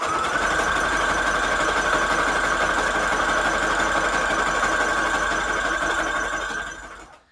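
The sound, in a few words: sewing machine sewing down the edge of a paper strip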